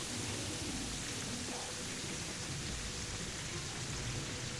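Steady rain in the Terraria video game, a constant soft hiss of falling drops with faint low rumbling beneath, even and unbroken throughout, with no talking.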